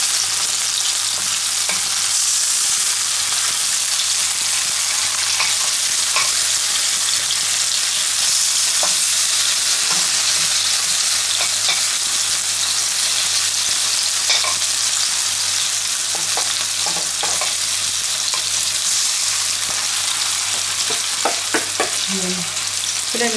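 Chinese meatballs frying in a pan, a loud continuous sizzle with a low steady hum beneath and occasional soft clicks and pops from the pan, no talking.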